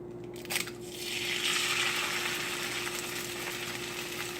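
An egg hits a hot skillet and sizzles, a soft crackle swelling into a steady hiss that continues under a low constant hum, with no talking.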